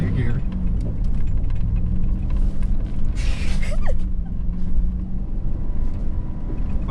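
A Ford F150 truck's engine rumbles and revs under throttle while doing donuts in a yard, a loud, fluctuating drone with creaks and tire scrub, and a voice speaks briefly over it.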